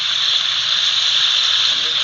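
Steady, bright sizzling hiss of cumin seeds frying in hot ghee, continuous and close for about two seconds with no talking.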